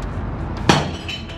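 A piece of glass is thrown into a box and breaks with one sharp, loud crash, and a short clinking tail follows over a steady background.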